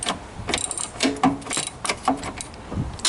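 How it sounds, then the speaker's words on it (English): A 12mm socket on a ratchet works a bolt loose from the cooling inverter water pump of a Toyota Prius, giving a few short, close mechanical clicks and scrapes in uneven bursts. "I'm going to now use a 12mm socket to remove"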